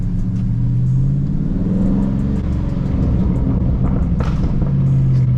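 A widebody Scat Pack car's loud engine rumbles and revs steadily, with the exhaust crackling and popping in short bursts near the end.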